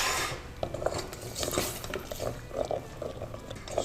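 Metal utensil scraping and rubbing across the bottom of a pan while deglazing with wine, steady close scratchy strokes over a low hiss of sizzling liquid, with no voices.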